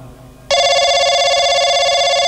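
A telephone rings loudly and steadily, a bright electronic trill starting abruptly after a moment of faint background noise and continuing without pause.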